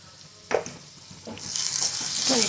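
Food being stirred and mixed in a hot pan after salt is added, soft sizzling with brief scraping strokes of a spoon, quiet and close.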